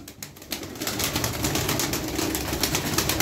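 Sütbeyaz game pigeons cooing close up, a dense continuous flutter of overlapping coos with soft wing and rustling noise throughout.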